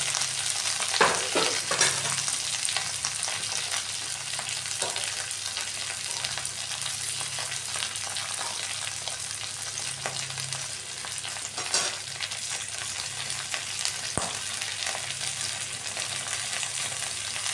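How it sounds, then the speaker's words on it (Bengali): Constant sizzle of okra frying in oil, fairly soft and even, with a few light scraping and tapping sounds from stirring. "আমরা আগে আমাদের ভেন্ডিগুলিকে ভাজা করে নেব"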